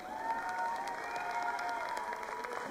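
Steady applause from a crowd at a cosplay parade, continuous and fairly loud throughout, with a few scattered cheers mixed in.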